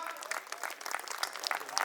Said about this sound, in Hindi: मैं चाहूंगा एक बार जोरदार तालियां हो जाए दोनों के लिए।